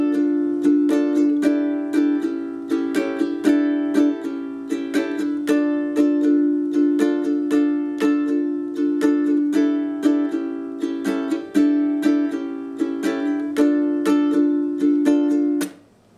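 Ukulele strummed through the intro of a song into the verse, played alone with a steady rhythmic strum of bright chords, close and even in loudness for about sixteen seconds before stopping.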